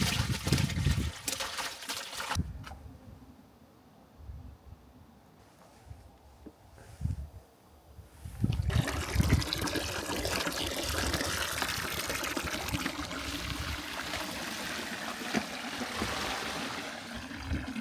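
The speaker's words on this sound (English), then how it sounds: "after you do a salt brine, you're going to want to rinse your fish so you're not extremely salty" Salt-brined Alaskan hooligan fish rinsed under running water, a steady splashing stream with a quieter trickling stretch midway before the flow grows loud and continuous again.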